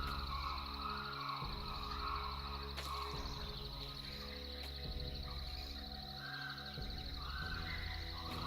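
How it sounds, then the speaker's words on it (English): Crows caw repeatedly in a Minecraft game world, harsh calls rising over a steady bed of ambient game music with a low pulsing rhythm throughout. "The birds are being noisy though."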